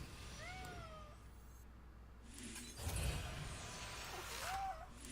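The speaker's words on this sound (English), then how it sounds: "My cat is in my ear." A pet house cat gives two short, rising meows, one at the start and another near the end, fairly close but soft, over a faint indoor background.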